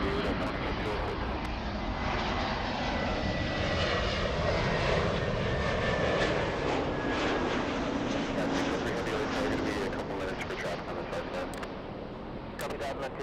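A Delta jet airliner takes off at LAX, its engines giving a loud, steady broadband roar that holds for the whole stretch and eases slightly near the end, with voices and radio chatter underneath.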